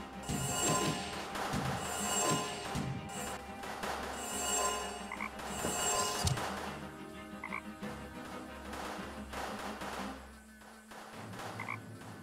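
Frogs croak in the Deponia adventure game, a steady run of repeated croaks layered over a busy ambient game soundtrack. The croaking continues throughout at a moderate, fairly distant level.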